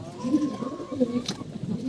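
Red-eyed pigeons coo in short, low, throaty bursts, close by and fairly loud over a brief stretch.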